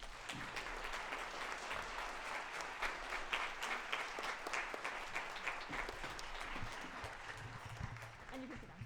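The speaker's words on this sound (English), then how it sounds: "And give them a round of applause, please." Audience applause for eighth-grade band students at a school band concert, continuous clapping of moderate density heard from a distance, with some talk and rustling mixed in underneath.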